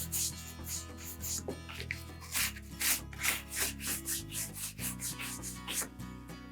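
A soft bristle brush scrubs ground-in dirt off a leather saddle in quick, repeated rubbing strokes, each a short scratchy swish in an uneven rhythm, close and fairly quiet.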